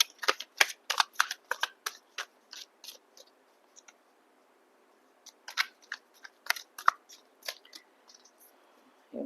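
A tarot deck being shuffled and cards drawn, with close, crisp bursts of rapid papery riffles and snaps in two clusters separated by a quiet gap, with no talking.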